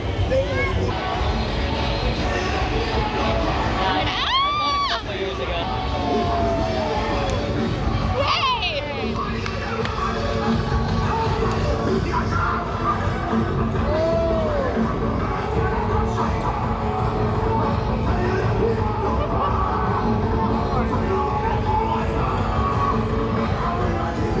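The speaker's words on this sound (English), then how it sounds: "Look at the crowd." A crowd at the NYC Halloween parade, a dense, continuous street hubbub of many voices with scattered shouts and whoops, and people talking nearby throughout.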